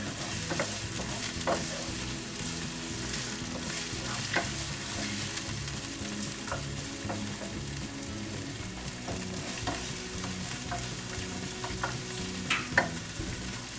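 Cabbage sautéing in a pan, a steady close sizzle and crackle with occasional stirring scrapes and small clicks, continuous and fairly quiet throughout.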